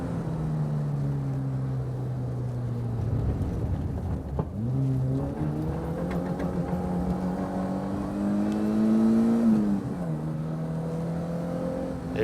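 Fiat Cinquecento engine on the Curborough Sprint Course track, a steady droning buzz that dips at a gear change and then rises as it accelerates through a corner, close and continuous.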